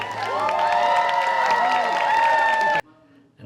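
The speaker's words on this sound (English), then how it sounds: "Can I hear a big applause?" A crowd cheers and applauds in a loud, sustained wash of voices and clapping that cuts off abruptly near the end.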